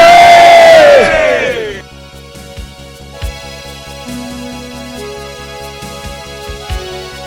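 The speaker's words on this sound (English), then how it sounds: "you just have a big cheer for me" A crowd at a dragon boat race lets out a loud, brief cheer and whoop for a couple of seconds, then drops away to quieter background bustle with tonal hums and knocks.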